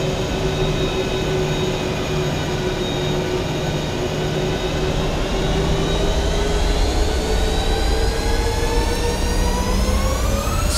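Ryanair jet engines in a flight simulator spool up for takeoff, a steady loud roar with rising whining tones climbing gradually in pitch throughout, no voices heard.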